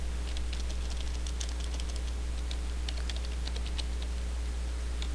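Rapid keystrokes clatter on a computer keyboard in a steady quick run, faint and close beneath a constant low electrical hum.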